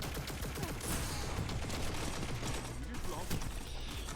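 Chaperone shotgun blasts in the video game Destiny 2 blend into a dense, loud, continuous barrage of gunfire lasting throughout.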